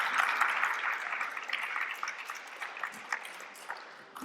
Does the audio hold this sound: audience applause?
yes